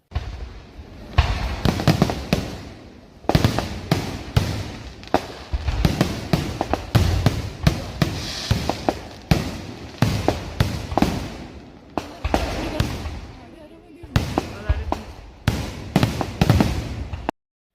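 Temple festival fireworks at the Vishu Vilakku celebration of Cherukunnu Sree Annapoorneswari temple burst in loud, rapid crackling volleys, separated by short pauses and repeating throughout.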